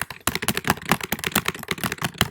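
Rapid, uneven clatter of keys being typed on a computer keyboard, close and crisp, with no talking.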